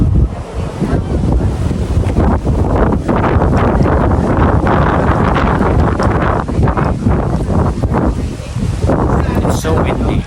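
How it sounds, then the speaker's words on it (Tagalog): Strong seaside wind buffets the microphone in a steady, loud, close rumbling roar, with surf likely mixed in underneath and speech heard over it. "It's so windy."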